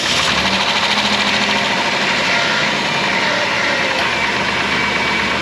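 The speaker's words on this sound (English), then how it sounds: "Lifters, it's got some valve train noise going on in there." A Dodge Caravan 3.8 engine running after a restart, loud and close, with a steady idle and a fast ticking clatter from lifter valve train noise layered throughout.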